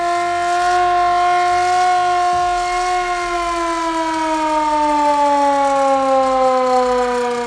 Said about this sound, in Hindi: ये जो सायरन बज रहा है